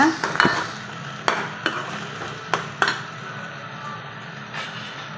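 Onion paste sautéing in oil in a pan, a soft sizzle running underneath repeated sharp clinks and scrapes of a metal spoon against the vessel, close and fairly loud, with no talking.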